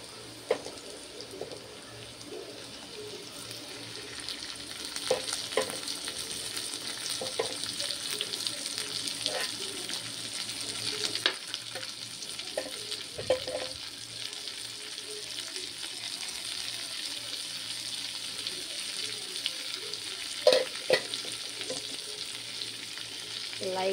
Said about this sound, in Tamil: லைட்டாக தக்காளி வதங்குறதுக்கு மட்டும்